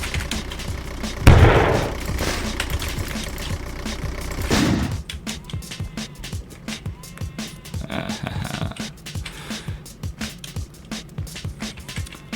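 Turrets fire physical shells in the video game Nuclear Lizard Island Rampage: two sharp loud blasts early on, then a fast run of rhythmic popping shots under a voice.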